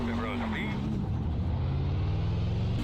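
NASCAR truck engine in the iRacing video game, run at full throttle at Kansas track, a steady loud engine roar rising in pitch as it accelerates, with a voice talking over it.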